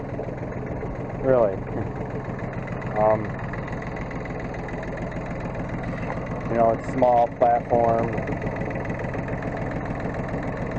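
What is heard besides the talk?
tractor engine idling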